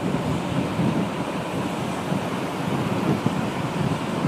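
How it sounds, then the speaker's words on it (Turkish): Steady roaring wind buffets the rider on a Yamaha Nmax 155 scooter fitted with a touring windscreen at about 30 km/h, a continuous broadband rush without pause or voices. "Ve de 30 km hızla gidiyorum. Yani gelen rüzgar gayet makul."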